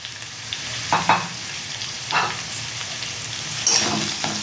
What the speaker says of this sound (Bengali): দেখুন এইরকম জাস্ট একটু নেড়ে নেব আর আমি দিয়ে দেবো এখানে কাঁচা লঙ্কাগুলো